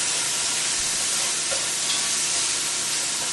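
Chopped onion sizzles steadily in a hot pan with kale for lemon herb sautéed kale, a continuous close frying hiss with soft stirring scrapes throughout.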